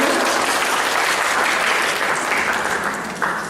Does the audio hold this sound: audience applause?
yes